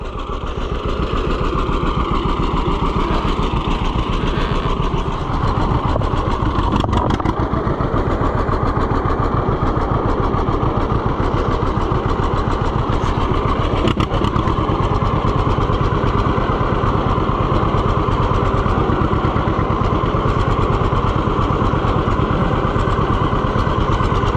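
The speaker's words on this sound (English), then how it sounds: "Thing about the 2-cylinder tractors is the cows don't understand that sound." A John Deere two-cylinder tractor engine chugs loudly and steadily at close range with a deep, even thump for the whole stretch.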